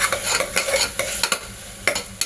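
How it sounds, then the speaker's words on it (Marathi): Vegetables with ginger-garlic paste sauté for vegetable khichdi, a steady oily sizzle punctuated by repeated scraping stirs of a spoon in the pan, close and fairly loud. "चांगलं परतवून घ्यायचं आपल्याला एक 5-10 मिनिटं"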